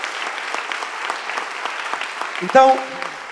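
A congregation at a church leaders' training in Milan applauds the Lord, a steady crackle of many hands clapping, with a short tonal burst and a voice near the end.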